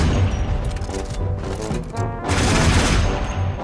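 The Voltor weapon in Warframe fires dense, rapid gunfire with heavy booming impacts, nearly continuous over a few seconds and briefly thinning before it resumes at full strength.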